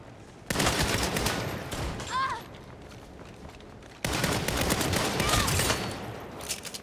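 Gunfire in the video game Saints Row, two long bursts of rapid shots separated by a short pause, loud and sustained, with no speech.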